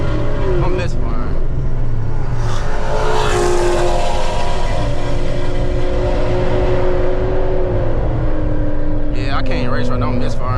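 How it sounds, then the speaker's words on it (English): A 900-horsepower Camaro ZL1 engine, misfiring, drones loudly and continuously from inside the car, its rough uneven note holding steady through the whole stretch. "I can't race right now, I'm misfiring."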